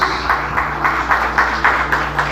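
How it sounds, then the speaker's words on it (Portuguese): A church congregation applauds together, a steady, fairly loud wash of clapping pulsing in an even rhythm over a low hum. "Você pode aplaudir o Senhor nessa noite"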